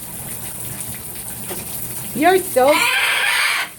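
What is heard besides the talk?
scarlet macaw parrot calling in the shower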